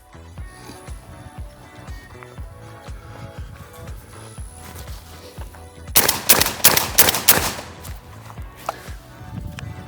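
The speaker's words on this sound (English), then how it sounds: "So here we go with the TRP Hunting 12 gauge made in Turkey. And let's go with the 5-round magazine first." A Turkish-made TRP Hunting 12 gauge semi-auto shotgun fires a rapid string of about five loud blasts in quick succession, preceded by several seconds of background music.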